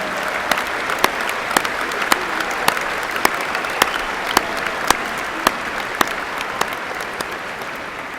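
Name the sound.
applause from thousands of people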